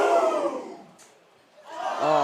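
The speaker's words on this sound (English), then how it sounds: "crowd is loving it" Crowd noise at a boys' high school soccer game, Mepham Pirates versus MacArthur, swells loudly, dips away, then surges back with a roar and cheering alongside an excited voice.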